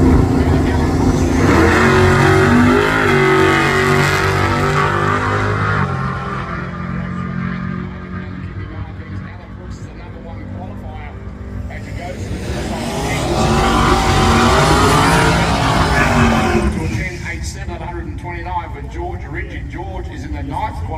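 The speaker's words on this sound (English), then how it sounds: "George Ritchie from Parra Hills on board the 73 Model 3 litre powered Holden Torana." A 1973 3-litre Holden Torana race car at a track, its engine loud and droning as it revs and rises in pitch, dips, then surges again, with a commentator talking over it throughout.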